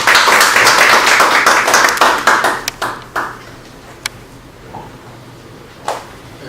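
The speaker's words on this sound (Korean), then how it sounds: "뜨거운 박수 부탁드립니다" Audience at a Korean church lay academy lecture bursts into dense applause, then thins out to scattered individual claps that fade away.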